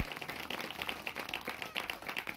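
A congregation claps together in praise at a Mother Mary special First Saturday Holy Mass in Chandavaram village, a faint, steady patter of many hands that runs throughout with no voices over it.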